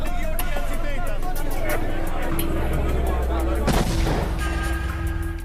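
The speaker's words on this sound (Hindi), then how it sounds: "धमाका हो गया।" Booming blast-like bursts rumble over a busy mix of music and a talking voice, loud and close.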